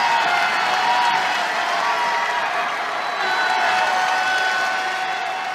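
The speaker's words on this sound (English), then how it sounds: "And the crowd getting back into it." Crowd noise at a women's college basketball tournament game, Minnesota against Missouri State, a steady dense roar of cheering and scattered applause filling the arena during a timeout, loud and continuous with no clear speech.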